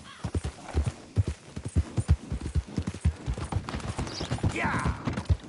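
A horse gallops in Red Dead Redemption 2, its rapid rhythmic hoofbeats pounding close and steady throughout, with faint game ambience behind.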